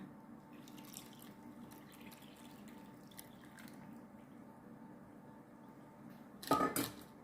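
Coconut milk, about half a kilo, is poured into the batter for Thai toddy palm cake, giving a faint, soft trickle that swells into a brief, louder splashing pour near the end.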